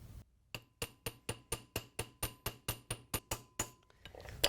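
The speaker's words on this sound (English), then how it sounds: "just like the other hammer that we did." Steady, rhythmic hammer strikes texturing annealed metal, about fourteen sharp ringing taps at an even pace, close and clear with no talking.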